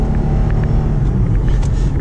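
Cabin of a 2008 Lexus IS with a failing transmission: a loud, steady, close low rumble and drone that runs throughout with no break and no talk.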